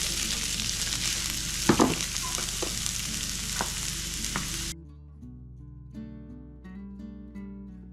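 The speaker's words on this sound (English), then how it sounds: "I'm gonna get pepper in there and some of these onions." Peppers and onions frying in garlic-infused oil, a close steady sizzle with a few sharp stirring knocks, cutting off abruptly halfway, after which soft background music remains.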